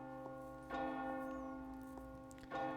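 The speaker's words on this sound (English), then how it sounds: "Yeah, and then she rings the bell." In the Resident Evil 4 remake video game, a bell rings with a resonant, sustained tone, struck twice a little under two seconds apart with a long humming decay between, clear and unaccompanied by speech.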